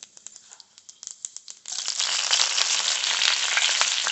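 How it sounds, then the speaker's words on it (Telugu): Garlic and tempering spices dropped into hot oil in a kadai for a cucumber dal tadka: a few light taps and clicks, then a sudden loud, steady, crackling sizzle that fills the rest of the clip, close up. "మంచిగా ఫ్రై అవ్వనిద్దాం"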